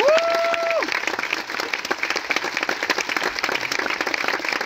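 Premiere audience applauding at the Paris screening of the film Arco, a dense, sustained burst of crowd clapping heard up close, with a short tonal note at the very start.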